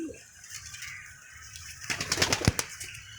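A teddy-breed pigeon gives faint, low cooing in a quiet loft, joined midway by a short flurry of brisk wing flaps and fluttering.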